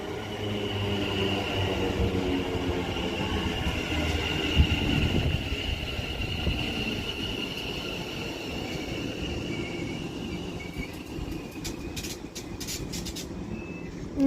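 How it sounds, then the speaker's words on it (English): A West Midlands Railway Class 730 electric train pulls in at Duddeston station, a rising hum and rumble of wheels on rails with brief squeals and clicks as it slows alongside the platform. "a doubled up West Midlands Railway Class 730, or even a singular 730 even, for Walsall."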